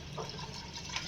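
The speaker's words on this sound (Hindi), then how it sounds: "इन 2 गिलास चावलों में हम 3 गिलास पानी डालेंगे।" Water poured from a glass into two glasses of uncooked rice for biryani, a short wet splashing trickle, close and fairly quiet.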